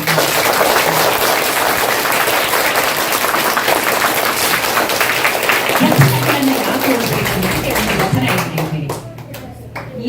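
A school gathering breaks into loud sustained clapping, a dense close wash of many hands that carries on for several seconds before tapering off, with voices faintly under it.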